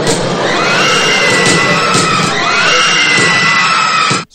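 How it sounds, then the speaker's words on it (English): Audio from the Orlando nightclub shooting: loud, continuous crowd screaming and shouting with a few sharp gunshots mixed in, sustained until it cuts off abruptly. "Gunshots followed by screaming."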